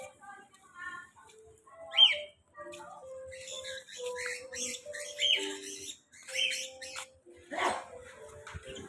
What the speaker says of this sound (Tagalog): Mga parrot sila.